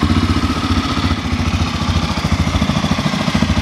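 A CFMoto CForce 600 Touring ATV engine idling just after starting, with a steady, close, fast-pulsing putter and a light mechanical clatter.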